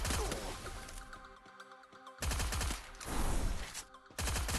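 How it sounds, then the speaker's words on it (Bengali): P90 submachine gun fire in a battle royale video game, dense rapid bursts of automatic shots with a sustained rattling roar and brief pauses between volleys. "শেষে আমার ফ্রেন্ড P90 দিয়ে একটাকে ডাউন করে,"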